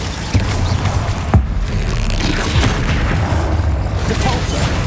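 Confringo blasting spells burst repeatedly in Hogwarts Legacy combat, a dense, continuous rumble of booms with a sharper impact crack near the start, loud and unbroken by speech.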